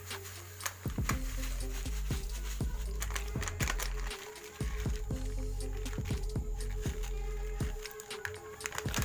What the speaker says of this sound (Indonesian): Kita tuangkan milkinya semuanya ke dalam baskom ya.